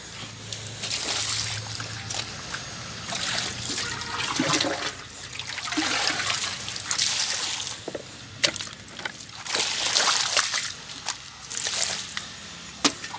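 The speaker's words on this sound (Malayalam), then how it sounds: "വെള്ളം എടുക്കുക, തണുത്ത വെള്ളം ഗൈസ്, കാലിക്ക് ഒഴിക്കുക അല്ലേ" Cold water splashes and trickles over feet outdoors on a hot sunny day in Palakkad, pouring in uneven sloshing bursts with dribbling runoff between them.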